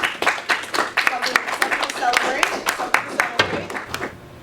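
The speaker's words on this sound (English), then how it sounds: "Give yourselves a round of applause." Class members at the final session of a music production course clap together in a sustained round of applause, dense and close, with a voice talking over it.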